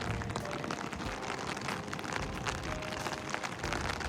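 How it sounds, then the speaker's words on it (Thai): Light rain with gusting wind at Hakodate harbour, a steady broadband hiss of drops and wind that holds at an even level throughout, with no voices. "ฝนมันไม่หนักเท่าไหร่นะแต่ลมนี่สิ"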